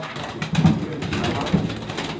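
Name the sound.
pigeons cooing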